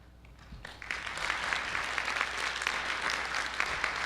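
An audience breaks into sustained applause, many hands clapping steadily after a brief quiet moment.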